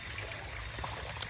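Creek water flows over bedrock with a soft, steady trickling and gurgling, faint and close, with no voices over it.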